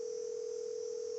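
Steady telephone dial tone in a Nancy Drew mystery game, a single continuous hum with two sustained pitches that holds evenly and quietly for about a second with no voices.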